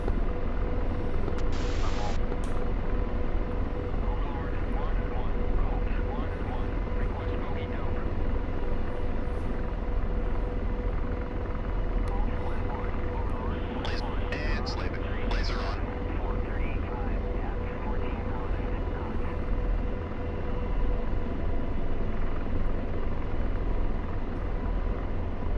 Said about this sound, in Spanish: tripulación arriba del helicóptero, estamos retornando